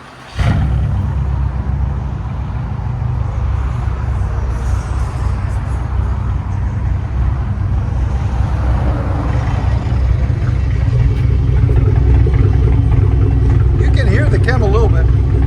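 A straight-piped, front-wheel-drive Impala SS with a 5.3 liter LS4 V8, cam and built heads, starts up loudly and idles and revs with a deep rumbling exhaust, rising toward the end.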